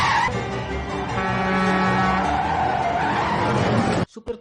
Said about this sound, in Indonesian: Apply the brakes.